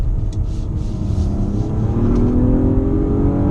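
A 2018 Nissan Maxima Platinum with 300 horsepower accelerates hard, its engine droning loud and close with a steadily rising pitch.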